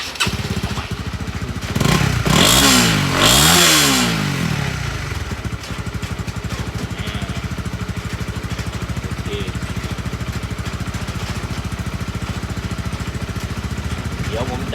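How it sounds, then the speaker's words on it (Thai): A freshly assembled Honda CB150R motorcycle engine starts up and runs at a steady idle up close, with a loud rev burst early on before settling into an even, rapid putter; a voice speaks briefly during it. "หลังจากประกอบเสร็จแล้ว สตาร์ติดแล้วเรียบร้อยนะครับ"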